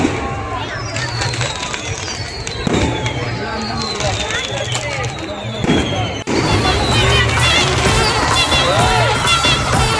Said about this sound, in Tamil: பட்டாசு வேறு வச்சுனே இருக்கிறாங்க.